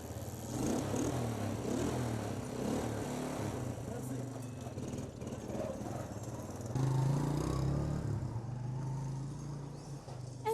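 Motorcycle engine idling and running nearby in Burkina Faso, a low steady droning putter that jumps louder partway through, heard among background voices and street noise.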